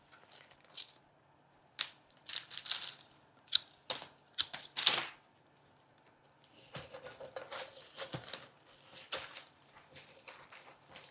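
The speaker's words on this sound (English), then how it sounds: "I'm just going to cut it down a little bit because I don't want it to compete with the sunflower" Scissors or shears snipping through flower and greenery stems from Trader Joe's blooms during arrangement, a run of sharp close clicks and snips in irregular bursts, then softer rustling and handling of the foliage.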